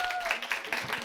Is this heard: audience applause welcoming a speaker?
yes